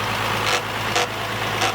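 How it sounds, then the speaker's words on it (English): On a classic Mercedes 280 W108, the engine fan rubs against its shroud after new engine mounts lifted the block. Faint brushing scrapes recur about every half second over a low, steady idle hum. "Recently replaced engine mounts, has lifted the whole block up a couple of inches, and now fouls on the shroud."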